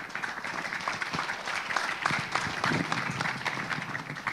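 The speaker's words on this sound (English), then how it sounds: "give you a round of applause" An audience applauds at the close of a fintech summit panel, a lively, uneven burst of many hands clapping at moderate volume throughout.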